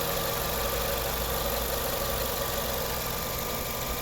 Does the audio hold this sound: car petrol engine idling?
yes